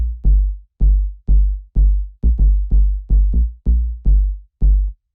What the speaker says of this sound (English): After that, we have the bass line